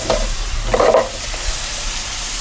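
Spices such as chili, turmeric, cumin and coriander powder sizzle loudly in a hot pan for a bottle gourd curry, with a spoon scraping and stirring in short bursts over a constant frying hiss.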